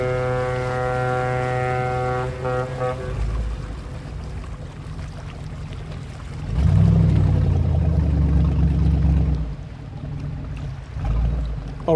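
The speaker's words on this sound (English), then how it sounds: "I hope you enjoyed our ferry ride over to St. John's." A ferry crossing to St. John's, with a deep, continuous engine drone and hull rumble, a sustained horn-like tone at the start and a louder surge of low rumble midway, with no voices.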